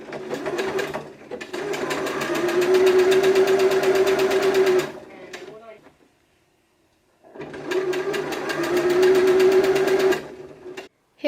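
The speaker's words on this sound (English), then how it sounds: "sew that in, and then all we need to do is hem it" A sewing machine hems a homemade top in two long, steady runs of fast mechanical stitching, each lasting a few seconds, with a quiet pause between them; the sound is close and clear.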